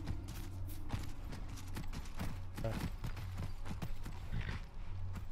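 Steady clip-clop of horse hooves in Skyrim, a brisk, even rhythm of close hoof strikes carrying on throughout over a low background hum.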